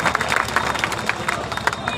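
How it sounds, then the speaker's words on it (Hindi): A hall audience at a Banjara Yuva Sena community convention claps to welcome a speaker, the scattered applause mixed with crowd babble and sounding moderately close. "तालियों के साथ स्वागत हो भाई"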